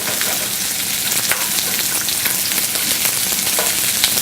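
Thinly cut vegetables frying in a restaurant pan, a constant loud, bright crackling sizzle with small pops throughout and no talking.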